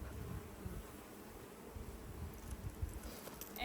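Honey bees hum steadily at a hive entrance during an inspection in drought conditions after a puff of smoke, a dense close buzzing with light rustling and no talk.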